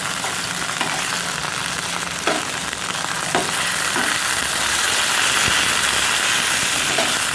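Small pieces of desi chicken fry in a pan until light brown, a loud continuous sizzle close by, with a few stirring clatters and no speech.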